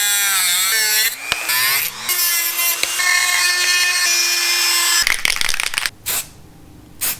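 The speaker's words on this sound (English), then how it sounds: "I'm just gonna cut them off with a Dremel, round this up a little bit" Dremel rotary tool cutting off metal wiring hooks on an MT-07 motorcycle, a high, whining grind that shifts pitch as it bites, stopping and restarting in short bursts, close and loud with no talk.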